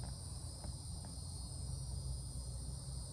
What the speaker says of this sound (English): These crickets, bro.